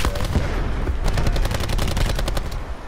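Dense, rapid automatic gunfire in Call of Duty: Black Ops 4 multiplayer, loud and continuous with overlapping bursts throughout.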